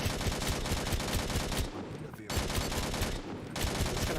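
Rapid vehicle turret gunfire in the sci-fi combat game Angels Fall First, loud and dense sustained bursts with two short pauses, up close.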